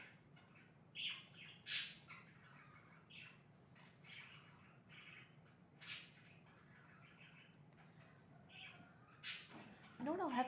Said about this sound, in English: I might have to try to put a blanket over my birds and see if that would make them hush.